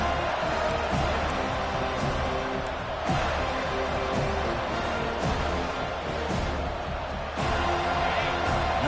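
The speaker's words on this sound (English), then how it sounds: "listen to this crowd noise. This stadium is vibrating." A packed football stadium crowd roars as one dense, loud, unbroken wall of noise, with faint surges and no clear speech over it.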